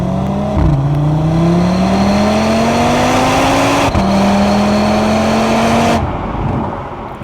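Cupra Formentor VZ5 engine pulling hard through the gears, a loud rising drone that drops briefly at each quick upshift before climbing again, then easing off, heard alone.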